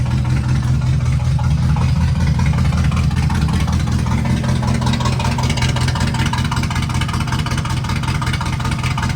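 Rough, uneven idle from the engine of a 1989 Pontiac Trans Am GTA that has sat unregistered for 17 years, a continuous low churning drone with no one talking.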